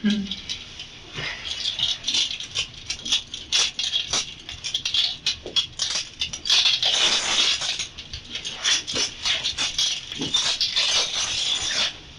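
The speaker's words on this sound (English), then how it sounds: "let me take this off because I'm not dealing with all my 800 other keys on here" A large bunch of keys jangles and rattles while a key ring is worked off, metallic clinking in irregular bursts throughout, near and fairly loud, with people talking intermittently.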